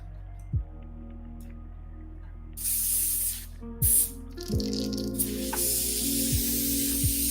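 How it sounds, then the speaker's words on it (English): Short bursts of airbrush spray hiss out several times while the airbrush is being cleaned, over a quiet background with faint knocks and clicks. "Okay, this just clean my airbrush real good."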